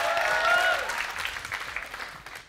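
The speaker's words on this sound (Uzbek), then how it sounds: "zaldan olqish so'rayman" A hall audience breaks into applause during a comedy show, starting loud and dense, then gradually thinning and fading out over a couple of seconds.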